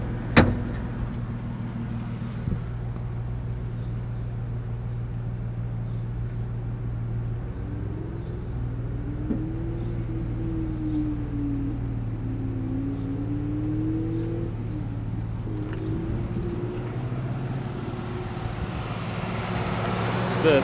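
Steady low hum of a 2007 Jeep Liberty Limited's 3.7 liter V6 idling with the hood open, an even drone throughout with faint background voices and a brief wavering tone midway.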